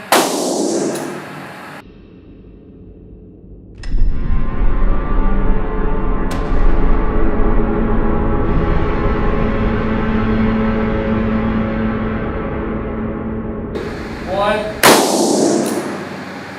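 A revolver fires a single loud shot between bursts of talk, followed by a long, ringing roar and rumble that fades slowly before voices and movement return.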